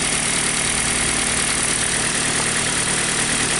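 A Toyota RAV4 engine idles smoothly and steadily after an ignition coil replacement, a constant even rumble with no misfire or stumbling, heard up close.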